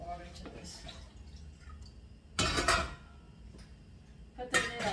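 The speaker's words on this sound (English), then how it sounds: "I'm just going to add a little more water to this." Water poured into a steamer pot in a home kitchen while steaming fruit: two bursts of splashing pouring, one around the middle and a shorter one at the end, close by, with light kitchen clatter between.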